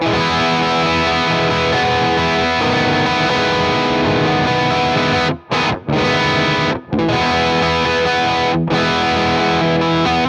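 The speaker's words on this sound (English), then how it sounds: "High gain setting, but even with the reverb, a lot of clarity." A heavily distorted electric guitar through a MESA Boogie amp simulation on a high-gain setting plays sustained, dense chords drenched in reverb, loud and continuous, with a few brief breaks between strums.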